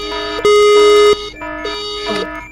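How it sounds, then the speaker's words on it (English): A loud headquarters lockdown alarm in a video game blares in two long, steady electronic tones with a short gap between them, harmonically rich and alarm-like, over a faint background. "Let me put on the lockdown alarm."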